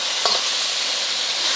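Beef strips stir-frying in hot oil for stir fry beef with ginger and spring onion, a steady close hiss of sizzling with one brief scrape of the spatula, loud and continuous with no voices.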